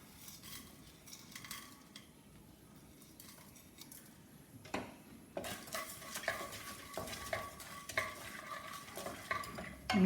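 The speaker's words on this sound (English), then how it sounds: "So now I am going to add chana dal and coriander seeds into it." Chana dal and coriander seeds roasting in a little oil for Tamil Nadu-style sambar, quiet sizzling under scraping stirs and clinks of a utensil against the pan, growing louder and busier partway through.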